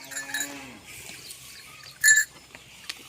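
A pair of well-fed farm bulls, one giving a short, low, falling moo up close, followed by quiet barnyard shuffling and a brief sharp clank.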